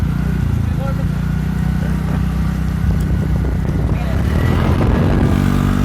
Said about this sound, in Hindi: RPM দিব মন যায় কিন্তু নোৱাৰো স্কুটিত